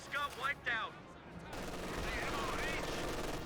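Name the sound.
machine gun fire in Company of Heroes 2 video game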